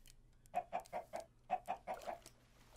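Chickens in the Minecraft video game give a run of eight short, evenly spaced clucks in two quick groups of four, moderately close and clear over a quiet low hum, with no talking.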